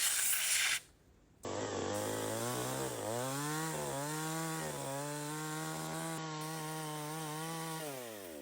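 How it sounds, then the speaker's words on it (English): A power saw cuts large wooden planks at an underground survival shelter build: a close, continuous motor drone that wavers and dips in pitch as it bites into the wood, starting after a brief pause. "They move on to sawing more large planks"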